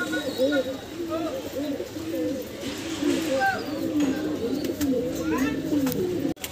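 Several high flyer pigeons coo repeatedly in low, throaty, overlapping calls, fairly close, with a few brief higher chirps and faint voices in the background.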